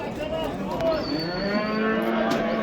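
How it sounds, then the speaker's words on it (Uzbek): Cow at a cattle market in Namangan lowing with a long, wavering moo, close and loud over a murmur of crowd noise. "Sigirimiz ko'rinib turibdi,"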